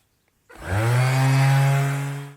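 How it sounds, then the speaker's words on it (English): An electric polisher spins up on a Mk1 Skoda Fabia headlight loaded with T-Cut, a loud rising motor whine that holds steady for about two seconds before cutting off abruptly. "Get my T-cut, put a bit on my polisher and give it some welly."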